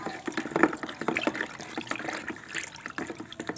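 Homemade liquid fertilizer being stirred in a container, a steady wet sloshing and swirling of liquid with small splashes, close and moderately loud, no talking.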